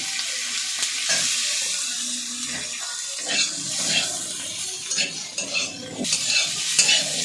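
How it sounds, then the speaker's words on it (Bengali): Capsicum fries lightly in a little leftover oil in a pan while a spoon stirs it. A steady sizzle runs under uneven scraping and clattering strokes, close and fairly loud. "এটার মধ্যে আমি দিয়ে দেবো ক্যাপসিকামগুলো, হালকা করে ভেজে এগুলো তুলে নেব।"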